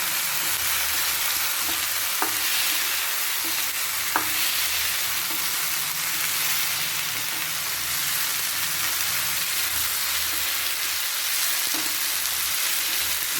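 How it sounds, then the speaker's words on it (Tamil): Capsicum and mushrooms frying in oil in a pan for a gravy, giving a continuous close, even sizzle with a few faint utensil taps over it, steady throughout with no talk. "என்கிட்ட எல்லா கலரும் இங்கே விட்டு நான் எல்லாத்தையும் எண்ணெய் பிடிச்சிடுவேன்"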